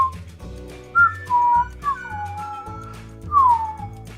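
A person whistles a short, wavering tune made of several sliding notes, close and fairly loud, with quiet pauses between phrases and no talking.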